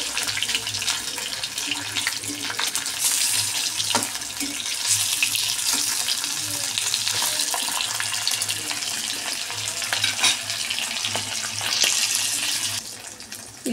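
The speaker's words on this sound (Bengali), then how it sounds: "ইলিশ মাছটা একটু জাস্ট ভেজে নিচ্ছি।" Pieces of hilsa fish fry lightly in oil for a curry, giving a steady, close, broadband hiss and crackle with a few small sharp pops throughout, and no talk.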